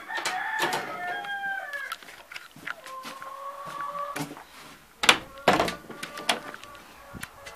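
A farm rooster perched on a wooden log crows several times, with hens clucking nearby and other birds calling around them. Sharp close clucks and rustles break in toward the middle, and there is no talk.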